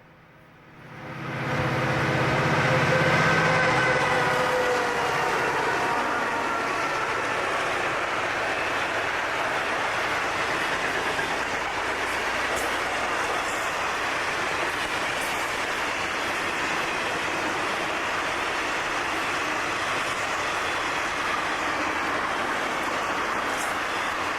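An FEC S-101 freight train runs wide open past Saybrook Siding south of St. Augustine, Florida, rising quickly from quiet into a loud, sustained roar of engines and rolling wagons that carries on steadily for over twenty seconds.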